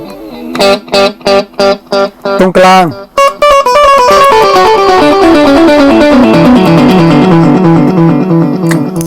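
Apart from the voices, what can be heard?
electric guitar through a Maxon DD01 digital delay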